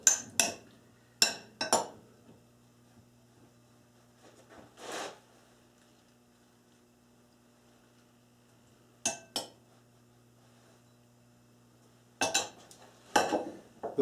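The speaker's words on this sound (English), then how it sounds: "I mix all my vegetables inside." Salad vegetables, including French beans, being tossed in a bowl: a few scattered clinks and scraping stirs in short bursts separated by quiet pauses, with a faint low hum underneath.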